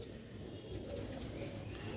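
Pigeons kept on a rooftop in Sialkot coo softly and steadily under a constant wash of background noise, with no voices present.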